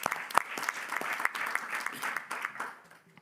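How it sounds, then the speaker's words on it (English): Applause from the audience at the ASOIF General Assembly, a dense patter of many hands that fades toward the end, with a faint voice underneath. "you can applaud"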